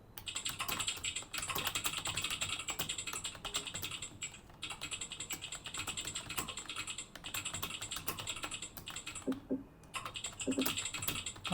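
Steady, rapid keystrokes on a computer keyboard during a typing speed test for a Delhi Police HCM/AWO typing exam, continuous clicking with brief pauses, close and alone with no voices.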